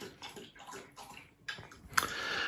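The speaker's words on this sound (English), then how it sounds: "dog's having a drink" A dog laps water from its bowl on a winter homestead, giving soft rhythmic wet slurps in short bursts, close by and fairly quiet, with a louder splash near the end.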